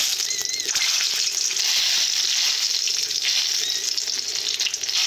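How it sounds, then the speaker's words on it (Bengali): Tomato frying lightly in a pan, a steady close sizzle with continuous crackle and occasional faint scraping, unbroken for the whole stretch with no talk. "টমেটোটা হালকা করে ভেজে নেব।"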